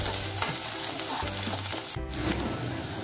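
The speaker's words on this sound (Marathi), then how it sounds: "ती पण आपण चांगली परतून तेलावरती चांगली परतून घेऊया." Ginger and garlic sauté in hot oil over low gas, a steady close sizzle with stirring scrapes throughout, loud and continuous with no talk.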